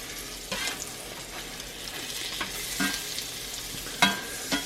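French toast fries in butter in a cast iron pan, giving a soft, steady sizzle close by, with occasional scrapes and stirring clicks on top.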